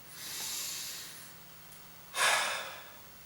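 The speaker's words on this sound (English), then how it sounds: "you want to take a nice deep breath" Two breaths drawn close to the microphone by a speaker before starting a speech: a long, slow inhale first, then a shorter, sharper, louder breath, with no talking.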